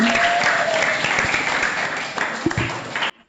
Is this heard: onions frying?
no